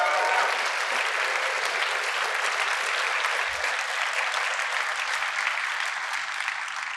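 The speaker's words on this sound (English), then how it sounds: "Can we just give her a big round of applause?" Sustained applause from a conference audience for a keynote speaker at RubyConf 2024, a dense even wash of clapping from a large crowd that holds steady for the full stretch with no talk over it.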